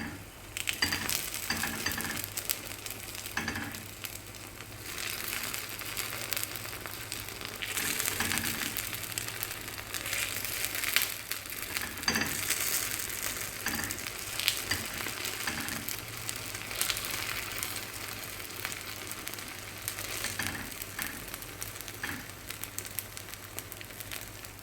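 Chettinad kuzhi paniyaram frying in an iron pan over moderate heat, a soft steady sizzle and crackle, fairly faint, with occasional scraping clicks as the dumplings are turned.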